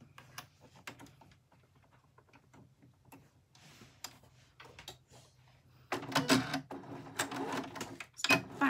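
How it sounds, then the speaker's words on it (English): A sewing machine stitches a 1/4-inch seam along the top edge of fabric for a hand sanitiser cover, its clicking run growing louder and busier in the second half, with short quiet ticks before it. "So we're just going to sew along that top edge there."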